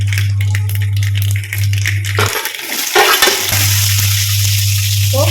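Oil sizzles and crackles in a pan as mustard seeds, urad dal, chana dal and onion fry, with a steady low hum beneath, a brief clatter midway as something is stirred or dropped in.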